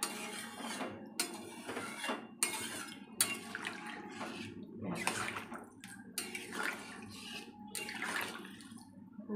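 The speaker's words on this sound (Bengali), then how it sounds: "দেখুন জল দিয়ে দিচ্ছি, মাছের ঝোলটা কষানো হয়ে গেছে" Water poured into a simmering Bengali fish curry in a pan, making a run of splashy, gushing bursts with some metallic clatter, loud and close throughout.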